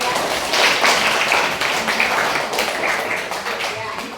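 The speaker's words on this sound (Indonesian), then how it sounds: "kita beri aplaus buat" Classroom applause from students, a dense burst of clapping that swells and gradually thins out over a few seconds, with voices mixed in.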